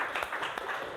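Applause from a sixth-grade primary school class, a steady wash of clapping lasting about a second with a few sharper claps standing out.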